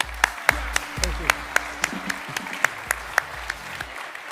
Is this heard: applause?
yes